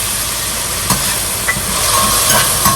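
White vinegar hits a hot pan of garlic, giving a steady bright sizzle and hiss that runs throughout, loud and close, with a few small clinks and stirring knocks on top.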